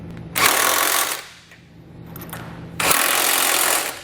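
A power tool with a 3/4 inch socket tightens trailer hitch bolts on a 2018 Chevrolet Express. It sounds as two loud, close bursts of rapid rattling impacts with a brief quieter gap between them.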